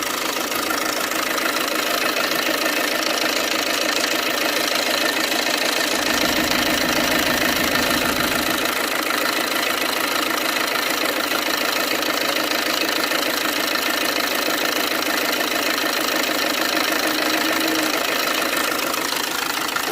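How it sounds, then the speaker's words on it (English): A Vauxhall Corsa E 1.3 CDTI diesel with reduced power and the engine light on runs steadily and loudly up close, a constant clattering idle with a slight knock throughout. "I'm going to point the phone, start the engine. It's going to be noisy"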